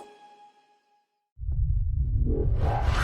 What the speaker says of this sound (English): That sound is the explosion of a supersonic wave.